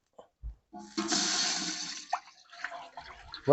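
Water pours in a steady rush for about a second, then trickles and splashes into a heated copper pot for cooking biryani rice, close by, ending with a few clanks.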